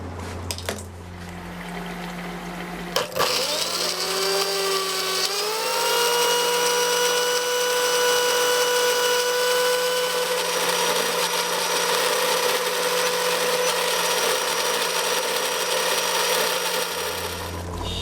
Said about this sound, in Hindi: टमाटर ग्राइंड करने के बाद हम हरी मिर्चों को ग्राइंड करेंगे।